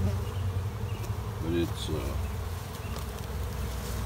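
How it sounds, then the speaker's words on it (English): Honey bees buzzing in a steady swarm around a hive box set beside a tree during a trap-out, a close continuous drone with individual bees passing by, a brief spoken phrase over it. "got a fair amount of bees out of this tree"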